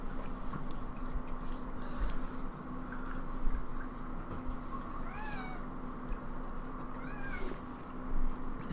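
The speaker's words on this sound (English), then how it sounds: "I don't know if you guys can hear the cat in the background." A cat meows twice in the background, faint and distant, with short rising-falling calls separated by a few seconds over a low steady room hum.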